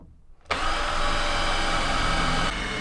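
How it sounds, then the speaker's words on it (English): A drill with a 3mm bit boring holes in a camper van panel, starting abruptly after a brief hush and holding a loud, steady high whine for about two seconds before easing slightly. "3mm drill, and I'm going to drill holes all the way around here"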